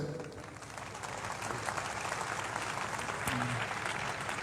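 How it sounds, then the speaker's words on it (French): A stadium crowd at a pastor's funeral applauds a visiting delegation, a steady, fairly faint wash of many hands clapping at a distance, continuous for several seconds. "La délégation de l'Angola, sous vos applaudissements s'il vous plaît."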